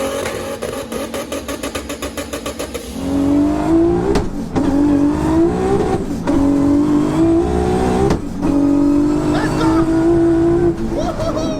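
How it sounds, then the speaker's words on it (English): A 4WD Cupra built for 1200 bhp, running low boost at around 850 bhp, launches on a test pass, its engine revving hard in loud rising sweeps with brief drops between gear pulls. "our very first test pass started out great, running a car on low boost at around 850 bhp"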